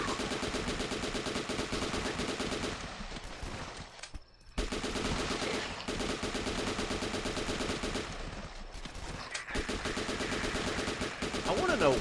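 Rapid, sustained gunfire from a video game mows down enemies, a loud continuous rattle of shots that breaks briefly twice before resuming, with a player's voice talking over it.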